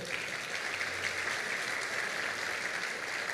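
A church congregation claps for the Lord in steady, dense applause that fills the room evenly and holds at an even level throughout.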